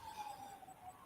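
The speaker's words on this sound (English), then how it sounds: "sorry for the siren." A faint emergency vehicle siren wails steadily in the distance behind a quiet indoor room, with no talk over it.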